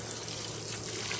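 A Fisher & Paykel washing machine fills with water on a full load, giving a steady rushing, hissing flow of water into the drum that holds constant and unbroken with no voices.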